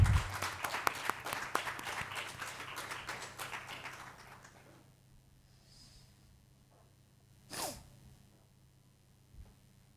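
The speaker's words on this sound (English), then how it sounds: "may I request you to join in a round of applause to mark the formal beginning of this conference" An audience applauds at the opening of an international conference while lamps are lit, a thick burst of clapping that thins and fades away within a few seconds, leaving near silence broken by one brief sharp noise.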